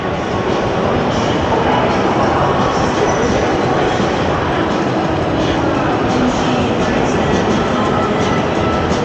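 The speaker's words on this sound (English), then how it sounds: "The PATH trains to New Jersey." A PATH subway train to New Jersey rumbles steadily close by at the World Trade Center, a dense continuous roar of wheels and rails with faint clatter throughout.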